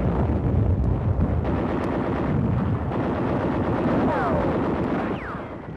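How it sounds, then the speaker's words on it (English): Mortar, machine gun and small arms fire meet troops landing on a beach in 1944 World War II combat footage, a dense, steady roar of rumbling bursts and crackling shots that carries on without a break, with no talk over it. "mortar, machine gun, and small arms fire meet the men as they hit the shore."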